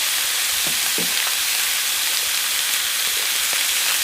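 Vegetables sizzle in olive oil in a pan at a camp stove outdoors in Wayne National Forest, giving a dense, steady crackling hiss with a few soft stirring knocks, close and continuous without any talking.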